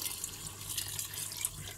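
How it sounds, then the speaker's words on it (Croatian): Water pours into a cooking pot of cabbage and beef as a steady, soft splashing and trickling stream, running evenly throughout with no talk. "Evo ja ću sada dodati vode."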